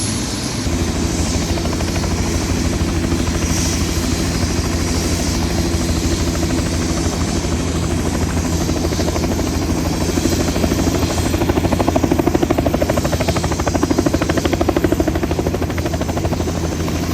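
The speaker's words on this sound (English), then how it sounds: "I believe these helicopters are designed to carry 6 passengers and the pilot" A six-passenger tour helicopter flying over the Grand Canyon, its rotor and engine drone loud, steady and unbroken throughout with no talk.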